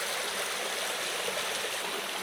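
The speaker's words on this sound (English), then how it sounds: "down the waterfall." Water rushes down a waterfall on a wilderness hiking trail as a continuous broadband roar, steady and fairly loud throughout, with no voices.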